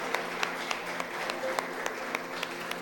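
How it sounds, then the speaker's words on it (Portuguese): Church congregation applauding during a Sunday evening worship service, a soft, even wash of clapping with distinct, regularly spaced sharp claps standing out over it, fairly quiet throughout. "aplauda ao Senhor essa noite, em nome de Jesus"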